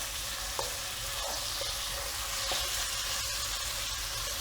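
Chicken breast pieces frying in a pan, giving a dense, steady, close hiss of sizzling oil with a few faint spoon taps, alone without talk.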